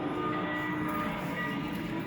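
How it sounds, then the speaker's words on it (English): The Magic Forest Railroad amusement park train at Lake George, New York rumbles steadily nearby, a low rolling mechanical drone with faint rhythmic clatter and no voices. "but there's the train."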